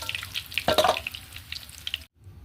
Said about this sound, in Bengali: এবার এইভাবে আমি প্রত্যেক কটি মাছ ভেজে নেব